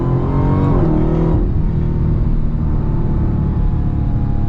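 A 2022 Dodge Challenger SRT Super Stock Hellcat V8 pulls hard under steady throttle, a loud, continuous close-up engine roar with a rising pitch sweep early on, then a sustained dense rumble.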